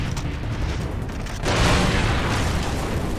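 A grenade goes off in Far Cry 3: a sudden, loud, full-bodied blast about halfway through, rising out of constant busy game noise and sustaining a rough roar afterward.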